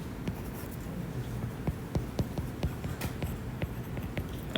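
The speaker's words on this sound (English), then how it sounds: "let me write here" Chalk or pen scratching out an equation during a math lecture, a run of short, irregular taps and strokes close by with no talk over them.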